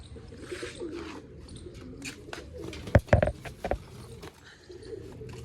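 A young pigeon chick in a rooftop loft coos softly and faintly, with a sharper cluster of calls and clattering in the middle over a low background hum.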